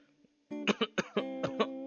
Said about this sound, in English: the dust in my paw's kicked up enough to give me a coughing fit